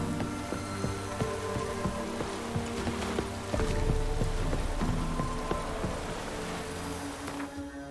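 Heavy rain pours down in The Witcher 3, a dense, continuous hiss of drops striking surfaces with a low rumble beneath, close and steady throughout.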